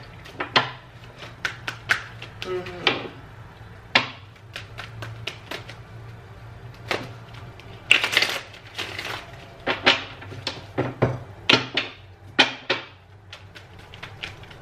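Cards are shuffled over and over in quick riffling bursts, crisp papery slaps and flutters repeating close up with short pauses between.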